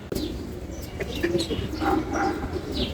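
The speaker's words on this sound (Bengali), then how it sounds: "আর নরের ডাক আছে ভালো ডাক খুব প্রচুর ডাক আছে নরের" A male racer pigeon coos in several low, repeated calls, close by, over steady background noise with faint chirps from other birds.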